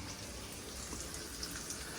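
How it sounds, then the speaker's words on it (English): Water gushing and bubbling steadily as eggs are poured into a pot of simmering water for poaching, with a few small clinks near the end. "I'm going to pour the eggs into the simmering water"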